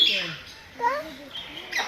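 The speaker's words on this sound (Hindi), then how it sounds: "ये पहाड़ी मैना, देखो पहाड़ी मैना, तुम देख लो।" A hill myna calls at a zoo in Lucknow with a few short whistled and warbling notes, spread across the clip with brief gaps. Children's voices and other people talking sit close by.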